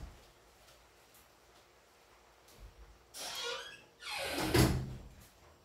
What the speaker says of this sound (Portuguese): Deixa eu fechar minha porta ali